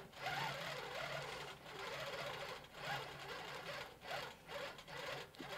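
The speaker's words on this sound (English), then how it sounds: "watching these designs stitch out, especially with a variegated thread, is just absolutely mesmerizing" A Handi Quilter Pro-Stitcher quilting machine stitches out a design with variegated thread, its needle running in a steady fast mechanical whir with slight pulsing changes in pace, close and alone.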